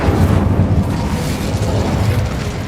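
The Incendio fire spell going off in Hogwarts Legacy, a loud, rumbling roar of flame with bursting crackle that holds steady for a few seconds.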